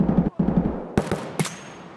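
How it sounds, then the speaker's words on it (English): Automatic gunfire rattles in the shooter game Escape from Tarkov, a rapid burst of close shots, a brief pause, then a few sharp, loud single cracks with one ringing tail. "Do you hear all that gunfire?"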